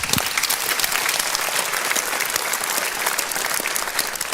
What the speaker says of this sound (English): I heard a bit of applause there.